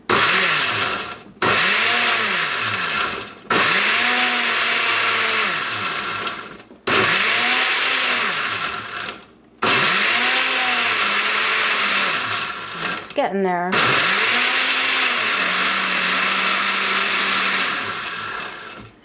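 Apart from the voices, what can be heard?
blender pulsing kimchi paste ingredients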